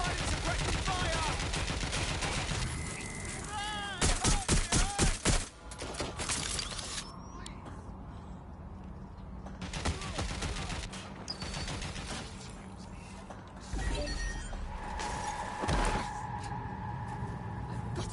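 Bursts of suppressing gunfire crackle through a firefight in Watch Dogs: Legion, rapid volleys and scattered single shots over a dense, loud action backdrop, with a clustered automatic burst in the middle.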